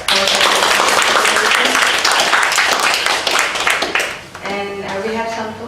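Lecture audience applauding after a talk on post-conflict violence in Indonesia, a dense burst of clapping that fades after about four seconds as a voice starts speaking.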